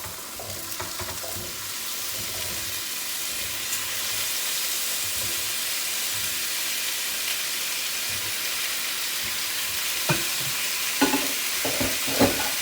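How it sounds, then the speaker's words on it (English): Potatoes sautéing in a pan with seared onion and garlic, giving a steady, close frying sizzle throughout, with a few scraping stirs near the end. "we are going to add these potatoes"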